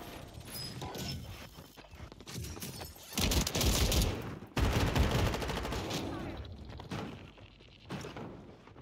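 Shotgun and other gunfire in a video game: bursts of loud shots come in clusters, with heavy blasts near the middle, amid game noise and footstep-like clatter.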